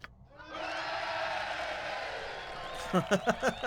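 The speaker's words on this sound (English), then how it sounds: "This is the army, I guess," An army in the video game Baldur's Gate cheers as a swelling roar of crowd voices that fades after a couple of seconds, followed by someone speaking up close.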